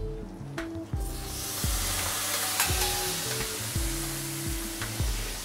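Chopped tomato and onion sizzling on a grill, a dense steady hiss up close with repeated scraping and tapping of a utensil at regular intervals.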